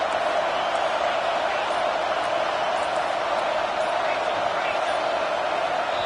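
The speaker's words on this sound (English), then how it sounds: "Decibels rising as the crowd gets behind this defense on third down." Football stadium crowd roaring for the home defense on third down, a loud, sustained wall of cheering noise throughout.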